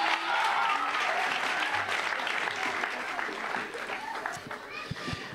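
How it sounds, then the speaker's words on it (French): An audience at a school closing concert claps in steady, dense applause that stays loud throughout and eases slightly toward the end. "Je vous demande d'applaudir Mathis et Diane, s'il vous plaît"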